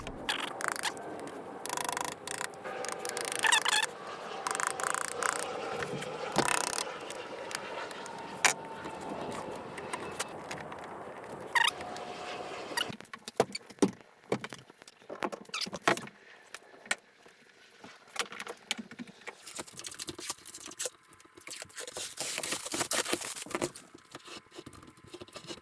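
A hand tool scrapes and chips at wood, cutting a small mortise for a door latch: irregular scratchy strokes and knocks, busier at first and then sparser with sharp clicks.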